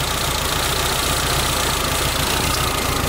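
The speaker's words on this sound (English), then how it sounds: "see it's idling higher because this stupid spring" A 1986 Suzuki Samurai engine idles steadily and a little high, a constant close mechanical rumble with a light knocking texture and no talk over it.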